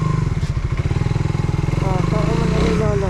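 Motorcycles rumble close by in a steady, pulsing engine drone that rises slightly as they pass, with voices talking over the traffic.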